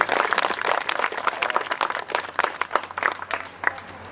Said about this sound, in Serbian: ali još jednom aplauz